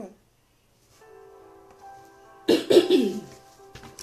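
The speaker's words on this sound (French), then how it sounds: "J'ai un chat dans la gorge, donc je vais tousser un peu aujourd'hui." A person coughs and clears their throat in a quiet room during a church adoration service, a brief rough burst after a faint hum.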